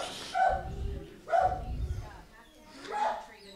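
A dog at a humane society shelter barks in three separate bursts, moderately loud and somewhat distant, with room reverberation and voices talking nearby.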